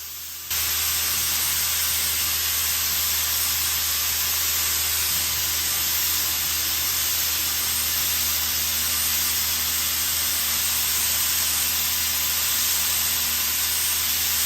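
Matte sealer top coat is sprayed onto a wooden dresser, a steady close hiss of spray that runs without a break for the whole stretch.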